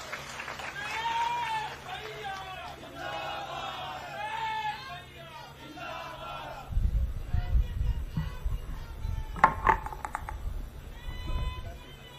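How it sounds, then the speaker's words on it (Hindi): At a Congress party election public meeting in Abhanpur, a man's amplified speech gives way to a crowd clapping loudly, rising and falling in irregular bursts for several seconds. "आप जोरदार ताली बजाओ"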